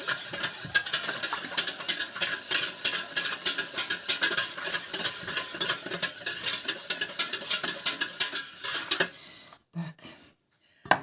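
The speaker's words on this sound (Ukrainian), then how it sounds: "Я вінчиком розмішую, вінчиком саме лучше" Rapid metallic clinking and scraping of a whisk beating in a bowl, steady and busy for several seconds before stopping, close up with no talking.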